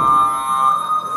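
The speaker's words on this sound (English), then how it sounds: "So he probably has a problem with the alarm." Alarm sounding in a bike workspace in Amsterdam, a loud steady electronic beeping tone held throughout, with no speech over it.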